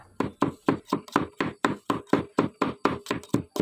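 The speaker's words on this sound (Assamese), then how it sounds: "ৰচুন আদা মই এয়া খুন্দি ল'লোঁ, লগতে জলকীয়া" Garlic, ginger and green chilli pounded inside a glass, a steady series of about fourteen sharp, close thuds at a regular beat with no talking.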